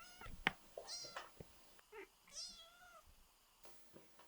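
A kitten meows several times, near and fairly clear, in short separate cries with brief pauses between them.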